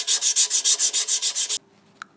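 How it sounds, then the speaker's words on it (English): Sandpaper rubbed by hand over a part's edges before painting, a steady run of about a dozen rhythmic, close scratchy strokes that stop abruptly, followed by near silence and one faint tap. "I'm just going to smooth it down very slightly with some sandpaper"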